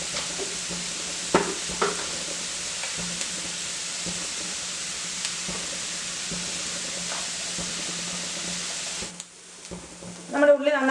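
Onions sautéing with salt in a pan for a Kerala-style prawn roast give a continuous soft sizzle with occasional spoon scrapes, dropping quieter near the end before a brief stirring clatter.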